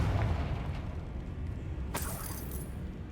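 A Confringo blasting spell detonates in Hogwarts Legacy, one sharp explosive burst with a brief crackling tail partway through, set over a steady low rumble of game ambience.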